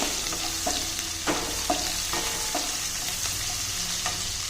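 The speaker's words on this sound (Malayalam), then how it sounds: "നമ്മൾ ഈ എടുത്തു വെച്ചേക്കുന്ന വെളുത്തുള്ളിയും പച്ചമുളക് ഇതെല്ലാം കൂടെ ഞാൻ ചേർത്ത് കൊടുക്കുവാണ്" Garlic and green chillies sizzle in a hot pan for green peas pulav while being stirred, with steady frying hiss broken by repeated scraping strokes of a spoon, close up and without talk.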